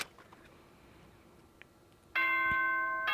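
The school announcement chime from the video game Danganronpa: Trigger Happy Havoc rings out suddenly and loudly as bright bell-like tones sustained for about a second after a quiet stretch.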